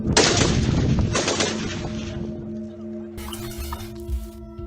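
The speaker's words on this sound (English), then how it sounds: "Then it shows them killing her with at least 36 gunshots." Rapid bursts of gunfire from recorded footage of a killing in northern Mozambique, dense, sharp shots packed together for about two seconds, then sparser cracks over a lingering steady hum.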